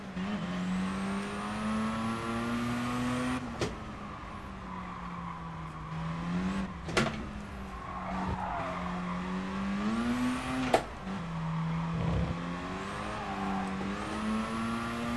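Race car engine in the GT Sport driving game with an H-pattern shifter, a steady harmonic drone that rises and dips through gear changes, with sharp shift blips and occasional tire squeal, loud and continuous with no talk.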